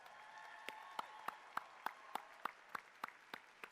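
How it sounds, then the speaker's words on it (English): Applause at an online university commencement ceremony in Chicago, heard as faint, evenly spaced sharp claps over a soft steady wash, with no talking. "can we give him another round of applause?"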